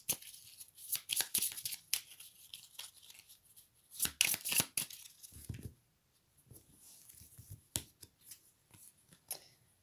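Oracle cards being handled and one drawn from the deck, giving quick papery slides and flicks in bursts with short quiet gaps between them, close and fairly soft.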